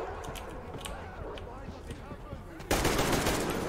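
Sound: gunfire in a video game

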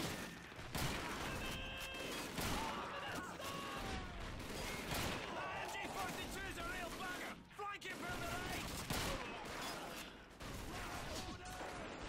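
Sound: gunfire from the video game Call of Duty 2

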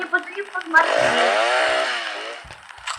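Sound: chainsaw in Roblox video game

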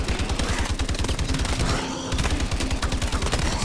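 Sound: gunfire from a gun in the video game Call of Duty Exo Zombies

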